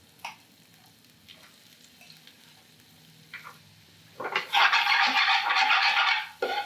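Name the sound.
onions frying in a pan for garlic chilli chicken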